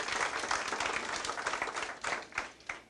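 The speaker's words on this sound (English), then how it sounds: "If we can give him another round of applause." An audience at an education commission meeting gives a short round of applause, a dense patter of hand claps that thins out and fades after a few seconds.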